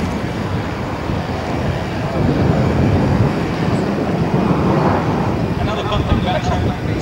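Cabin noise inside an Air New Zealand Beechcraft 1900D turboprop in flight: a constant, loud broadband roar of engines and airflow that holds steady for the whole stretch.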